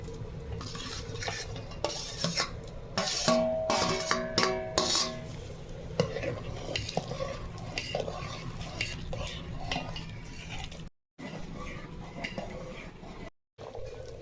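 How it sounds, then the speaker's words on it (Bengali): Fried vegetables go into a pot of khichuri and get stirred, with repeated scraping and clinking of a utensil against the pot, steady and close, under a soft background hiss and no talking. "এবার দিয়ে দিচ্ছি ভেজে রাখা সবজি।"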